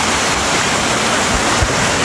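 Steady, loud rushing of river water flowing right beside the microphone, a dense broadband roar without pause or speech.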